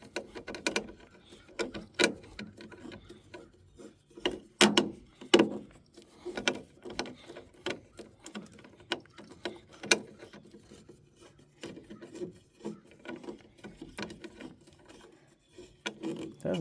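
Self-tapping screws are driven into the metal of a 1978 C10 truck, giving a string of uneven grinding, rasping bursts with short pauses between them, close but fairly quiet, with no clear speech.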